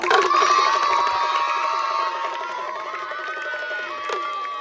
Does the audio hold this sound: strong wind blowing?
no